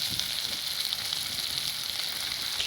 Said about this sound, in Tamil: கத்திரிக்காய் வதங்கி வந்துட்டுது இப்போ நான் கருவாட்டை போடுறோம்